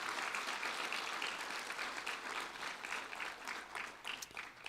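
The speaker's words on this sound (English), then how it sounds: "Please give another round of applause to the Junior Miss Cherokee contestants" Steady audience applause for the Junior Miss Cherokee contestants at a pageant competition, a dense wash of many hands clapping throughout at moderate distance, with no voices standing out.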